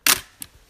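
Nikon F3 film camera shutter firing once without battery power: a sharp close mechanical snap, then a faint second click a moment later, alone in a quiet room.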